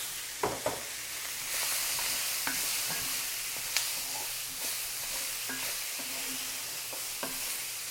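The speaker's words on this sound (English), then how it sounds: "I am tossing in the onions, the thin sliced onions, and some red and green peppers in with the cooking sausage." Thin-sliced onions with red and green peppers sizzle steadily alongside sausage in a pan, a close, constant frying hiss broken by occasional soft clicks and stirs.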